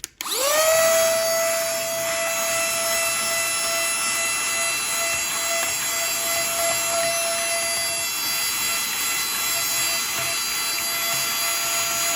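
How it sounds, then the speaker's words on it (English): A small vacuum cleaner switches on and spins up to a steady high-pitched whine, running continuously and loudly close by. "we're going to grab the little vacuum. All right, it's time to clean her up."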